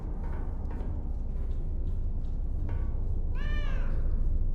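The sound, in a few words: cat meowing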